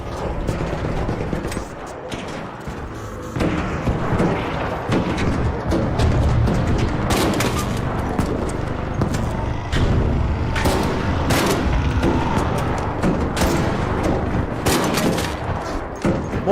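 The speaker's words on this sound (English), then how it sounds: "Oh, flashbang." Flashbang grenades and gunfire in the video game Arc Raiders, a dense run of loud bangs and crackling bursts with short pauses, sustained throughout.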